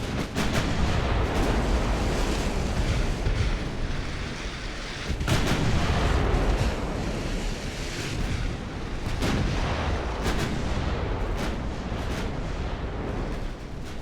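Naval artillery shells fire in the Ultimate Admiral: Dreadnoughts naval battle game as dense, rolling booms that pile up into a continuous loud barrage, with no voices over it.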